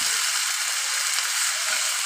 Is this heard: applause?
no